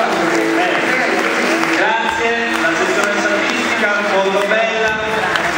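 Audience applause at an awards ceremony for a literary prize, a steady dense clapping from a crowd that fills the whole stretch evenly and loudly, with no pauses.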